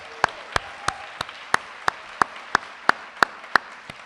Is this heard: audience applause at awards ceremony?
yes